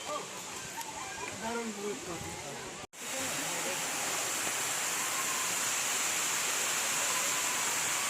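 Steady broadband roar of a high waterfall in Chhattisgarh, continuous and close, briefly cutting out near the three-second mark before resuming fuller; faint voices sit under the rushing water.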